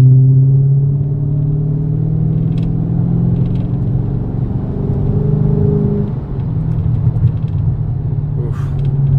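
A 2018 Dodge Charger Scat Pack sedan's engine hums with a steady low drone and rising tonal whine as it pulls through the gears, loud and close from inside the car.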